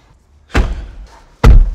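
Two solid car door slams on a post-2000 car, the first moderately loud and the second heavier, each a short low thud in a quiet setting.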